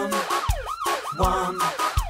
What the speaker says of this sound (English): In an emergency, call for the ambulance.